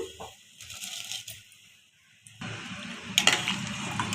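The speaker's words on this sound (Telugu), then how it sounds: "నానబెట్టుకున్న బాస్మతి రైస్ వేస్తున్నాను" A rattling splash as soaked basmati rice pours into bubbling water, the noise swelling and staying busy after a quieter stretch of soft clinks.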